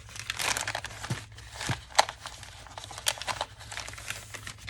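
Paper is handled and cut for a journal, giving close, soft crinkling and rustling with a few crisp snips and taps scattered across a few seconds, faint and without talk.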